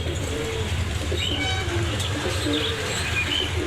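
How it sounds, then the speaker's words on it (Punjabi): Pigeons coo softly and repeatedly at a bird market, with a few faint chirps mixed in over low background noise. "ਇਧਰ ਕੱਲੇ ਕਬੂਤਰਾਂ ਦਾ ਸੈਕਸ਼ਨ ਆ"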